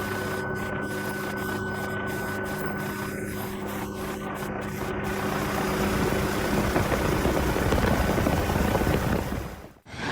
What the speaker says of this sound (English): A Red Bull stunt helicopter showcases incredible agility, performing a series of daring aerobatic maneuvers, including steep dives and rolls